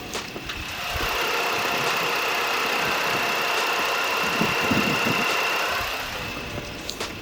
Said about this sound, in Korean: 바로 영상으로 엔진 소음 한번 담아보도록 하겠습니다